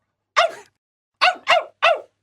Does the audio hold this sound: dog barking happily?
yes